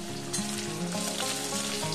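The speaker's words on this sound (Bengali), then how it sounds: "কালো জিরা আর শুকনো লঙ্কাটা 10-15 সেকেন্ড একটু ভেজে নেব" Black cumin and dried chilli fry in hot oil for a snake gourd dish, giving a dense, continuous close-up sizzle with faint crackles.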